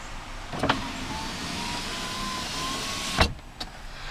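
Power windows whirring inside a 2011 Ford Crown Victoria, a quiet motor hum with clunks as the glass starts and stops at each end, heard close up in a calm cabin.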